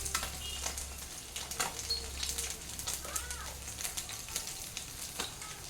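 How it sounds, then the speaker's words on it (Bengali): Nigella seeds tempering in hot oil for a Bengali pabda fish curry, a light crackling sizzle with scattered pops and spoon scrapes, fairly soft and close, with a low hum underneath. "একটু কালো জিরে ফোড়ন,"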